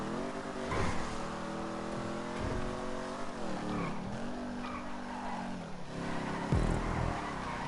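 A Vapid Dominator GTX muscle car in GTA 5 revs hard and continuously, its loud engine note climbing, dipping and surging again with no talking over it.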